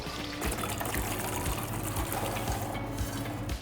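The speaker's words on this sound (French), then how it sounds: "Donc il faut vider l'eau" Soaking water drains off soaked white beans in a steady, close pour and trickle that runs through the whole stretch without pause.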